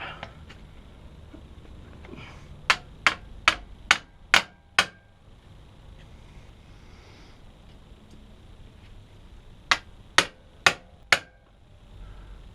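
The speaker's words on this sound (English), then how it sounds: "we'll use our impact driver to tighten that up" An impact driver tightens a bolt on a kick starter assembly of an electric-start Suzuki DR350. Six sharp, close metallic blows come in quick succession, then a pause and four more, over a quiet background.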